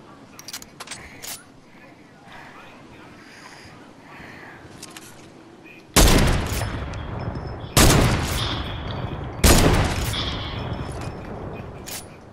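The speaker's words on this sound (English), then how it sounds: "I will shoot you down with this minigun, Dylan." A minigun fires in a video game in three loud, sustained bursts of about two seconds each, following quieter game sounds and background noise.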